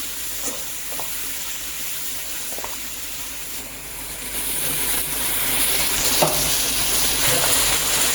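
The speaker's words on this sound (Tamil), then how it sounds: "வெங்காயம் நல்லா ரெட்டிஷ் ஆகணும். நல்லா கோல்டன் ப்ரௌன் ஆகணும் வெங்காயம்." Onions frying in oil until golden brown for mutton biryani give a steady broadband sizzle, growing slightly louder partway through, with a few faint stirring clicks and no talking.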